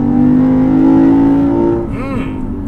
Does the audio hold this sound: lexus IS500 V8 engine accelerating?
yes